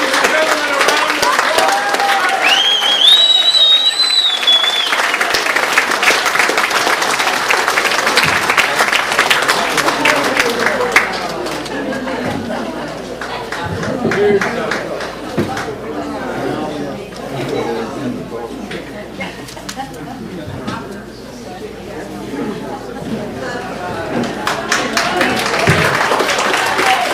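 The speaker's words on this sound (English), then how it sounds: "let's have a big round of applause for Dennis Moreau and Ed McMahon." Loud crowd applause at a 2017 holiday party, with sustained clapping and chatter filling the room throughout and voices calling out over it.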